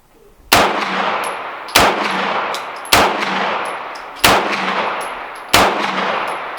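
Gunshots at a shooting range as a magazine is fired through: five sharp, loud reports evenly spaced about a second apart, each followed by a ringing tail and echo, with no talking.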